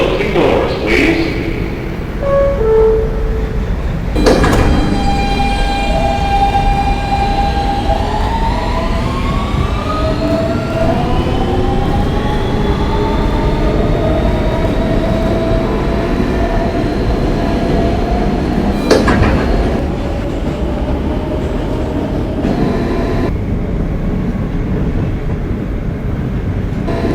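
An R160B Siemens subway car on the W line closes its doors with chimes, then accelerates away from Canal Street, its motors rising in a whining pitch over a loud, continuous rumble, with an announcement voice heard inside the car.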